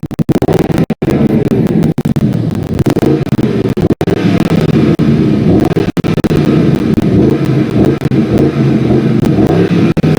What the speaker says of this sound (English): I'm going to start it up in sport mode because it sounds better